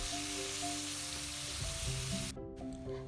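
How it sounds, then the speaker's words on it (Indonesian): Ground spice paste sautéing in hot oil in a wok gives a loud, steady sizzle that drops off sharply near the end and then settles back to a quieter hiss. "Tuang minyak secukupnya ke dalam wajan, kemudian tumis bumbu yang sudah halus."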